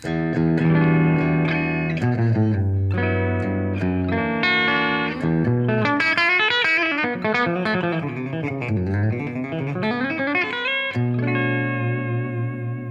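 A clean PRS CE24 electric guitar with a bright, twangy bridge-pickup tone plays a chordal phrase with arpeggiated notes, ringing clearly with a touch of reverb.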